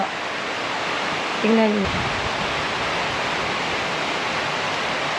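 Heavy rain pours steadily as an even, dense wash of noise throughout, with a short burst of talk partway through.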